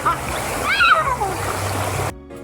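People splash and wade in a cold river in Bulacan, with a continuous watery rush and splashing up close while voices call out over it, cut off abruptly near the end.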